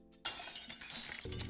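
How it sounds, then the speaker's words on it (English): Glass shatters in a Scratch horror video game: a sudden loud crash breaking into a bright, sustained spray of shards that rings on for over a second, with a low rumble rising near the end. "That's a glass break right there."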